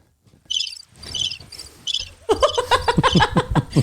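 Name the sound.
crickets chirping sound effect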